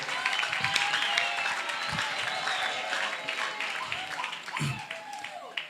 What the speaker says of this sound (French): Je vais demander à la salle de l'applaudir massivement